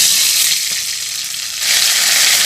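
Mustard oil crackles and hisses steadily in a wok, a loud, dense sizzle that dips slightly in the middle and then swells again, with no voices.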